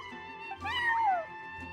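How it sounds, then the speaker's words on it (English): A cat meows once in the Genshin Impact rhythm-game event, a clear drawn-out meow over soft background music. "that's my neighbor's cat"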